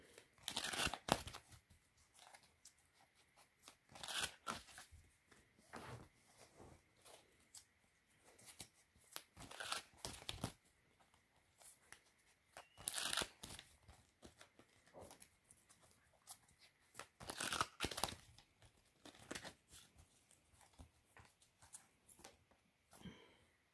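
Tarot cards being shuffled, heard as quiet, intermittent papery rustles and flicks in short bursts separated by near-silent gaps.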